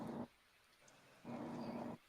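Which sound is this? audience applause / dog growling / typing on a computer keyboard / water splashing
dog growling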